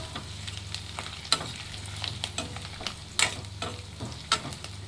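Chopped guava leaves fry in hot oil for homemade hair oil, a steady close sizzle broken by a few sharp crackles and stirring clinks, with no talk.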